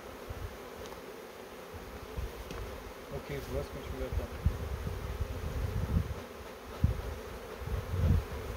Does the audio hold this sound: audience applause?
no